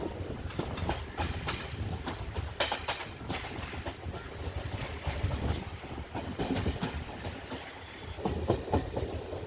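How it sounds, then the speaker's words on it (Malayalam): A passenger train departs Varkala Sivagiri station with steady rhythmic clickety-clack from the wheels on the rails, a continuous rumble with no one speaking. "അങ്ങനെ വർക്കല ശിവഗിരിയിൽ നിന്ന് ട്രെയിൻ എടുക്കുകയാണ്."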